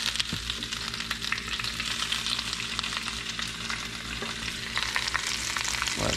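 Croissant breakfast sandwich filling sizzles steadily in a hot pan, a dense, even frying hiss with occasional stirring scrapes, close and continuous with no talking.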